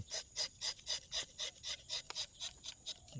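A tapping knife scrapes across soft rubber tree bark in a series of about thirteen steady, rhythmic rasping strokes, each short and bright, close up with no talking.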